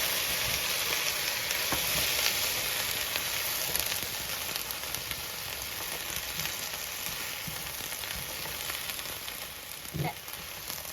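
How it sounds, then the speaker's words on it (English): Coconut pepper curry ingredients sautéing in a pan over a medium flame, with a dense, steady hissing sizzle throughout and a few faint stirring knocks, and no talking. "saute all ingredients on medium flame, so we can, the food cannot burn, and then add all the tomatoes and then saute."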